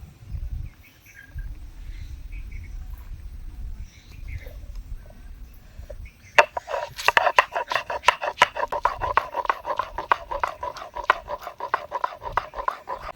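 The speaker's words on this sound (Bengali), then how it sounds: "এবার আমি পটল চিংড়ির জন্য আদা আর রসুনটা বেটে নেব" Ginger and garlic ground into a paste on a grinding stone, heard as a steady, rapid rasping scrape of stone on stone that starts abruptly, with dense rhythmic strokes close to the microphone.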